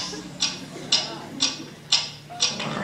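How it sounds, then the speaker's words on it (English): Sharp ticking repeats steadily, about two ticks per second, each a crisp bright click standing out above a faint low hum, with no voices over it. "What is that mysterious ticking noise?"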